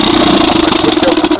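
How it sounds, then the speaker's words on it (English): A 1955 Johnson Seahorse 10 outboard motor runs steadily after a pull start, a loud close-up engine drone with a rapid, even putter and no talking. "Pull the choke out, give her a pull, see if it starts the first time"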